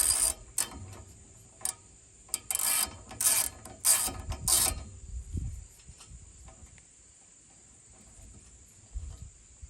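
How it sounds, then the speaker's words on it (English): A 6mm Allen wrench ratchets and clicks while snugging a bolt during bicycle assembly, several close metallic bursts early that fade into quieter handling noise. "Switch to your 6mm Allen."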